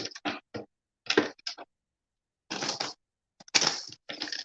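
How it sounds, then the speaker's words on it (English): Tarot cards being shuffled during a live reading, giving several short papery riffling bursts separated by brief pauses, fairly close and with no talking over them. "So I'm going to shuffle these a little bit for the air signs."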